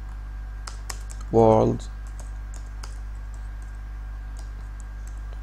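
Quick burst of typing on a computer keyboard, entering a double-quoted string in a Tcl shell on a computer, a short cluster of close clicks after a spoken word.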